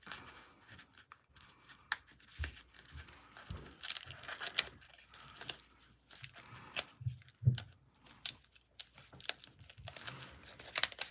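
Scissors trimming craft paper from a paper pad, quiet irregular snips and paper rustles, close but faint, with no talking.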